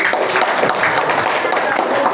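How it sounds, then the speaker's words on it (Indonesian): A fifth-grade math class bursts into dense, scattered clapping for a classmate, a busy wash of hands close by with voices mixed in. "Tepuk tangan buat saudari."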